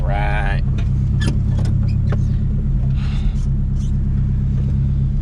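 A Nissan truck's engine runs with a steady, loud low rumble during a four-wheel-drive test, with a short whine at the start and a voice speaking briefly over it.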